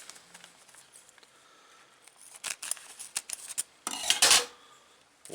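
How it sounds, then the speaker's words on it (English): Scissors snipping open a rubber duckbill valve for an oil tank vent, a handful of close, crisp clicks and snips, then a louder crunching cut near the end, with no talking. "going ahead and cut this duckbill valve open."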